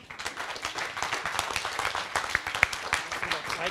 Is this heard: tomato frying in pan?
no